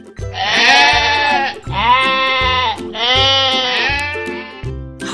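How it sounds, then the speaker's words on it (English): Sheep bleating in three long, loud, wavering calls close by, each stretched out with a nasal tremble and separated by brief pauses, with no other sounds. "Sheep."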